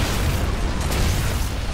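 Bomb explosion in the video game Gears of War: Judgment, a sustained loud low rumbling boom that fills the clip with heavy broadband noise and no talk.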